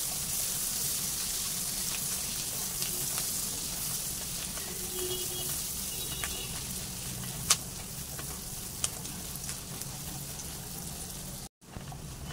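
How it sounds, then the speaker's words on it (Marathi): Onion and curry leaves sautéing in a pan, giving a continuous hissing sizzle with occasional faint clicks of stirring, steady and close with no talking. "आता त्यामध्ये घालायचा कढीपत्ता आणि हा कांदा, चांगला हा पण परतवून घ्यायचा आपण।"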